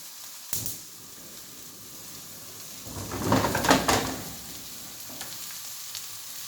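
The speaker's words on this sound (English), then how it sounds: "That's the mushrooms and the garlic in there." Mushrooms and garlic fry in a pan for a gluten-free mushroom stroganoff. A soft, steady sizzle plays with a single clack early on, then swells into a louder burst of spattering and stirring midway before settling back down.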